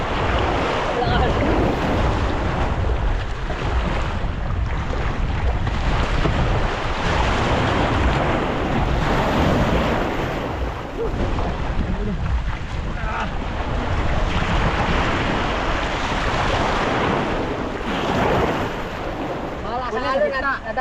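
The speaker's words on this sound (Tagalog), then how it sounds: "Malakas ang along." Loud, continuous roar of heavy waves and surf with strong wind buffeting the microphone, rushing water surging throughout.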